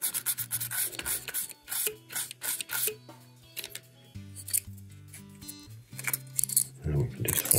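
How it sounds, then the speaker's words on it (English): A fiberglass pen scrubs parts of a Tri-ang Railways R.50 Princess model locomotive and R.30 tender in short, close, scratchy rubbing bursts with brief pauses between strokes. "I wouldn't give those a good clean with a fiberglass pen."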